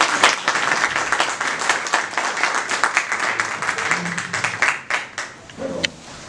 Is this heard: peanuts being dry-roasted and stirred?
no